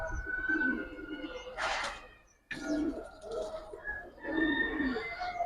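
Sabchila giribaz pigeons coo close by in soft, throaty, repeated calls with a brief pause partway through, as someone talks in the background.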